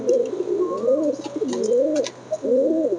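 A pair of white Lakkha pigeons cooing up close in a steady, rolling series of low throaty coos with brief gaps, loud and clear against a quiet background.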